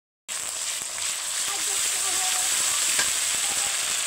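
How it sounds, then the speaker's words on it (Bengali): Onion with garlic and ginger paste frying in hot oil, a steady bright sizzle that starts abruptly and holds loud and even throughout, with faint clicks from a utensil and no voices. "ওই তেলে পেঁয়াজটা দিয়ে দিয়েছে, রসুন বাটা দিচ্ছে আর আদা বাটা দিচ্ছে।"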